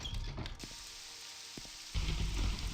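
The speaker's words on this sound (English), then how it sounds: "Ooh, it's a nice rainy day out here, huh?" Rain falls in the video game The Elder Scrolls III: Morrowind as a steady soft hiss with a few faint clicks, swelling louder toward the end, with no voices.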